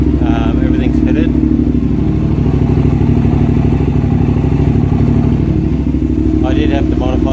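Hyosung GT650 motorcycle engine running at a steady idle after a new regulator rectifier is fitted, a loud close throbbing rumble throughout, with brief speech over it near the start and end.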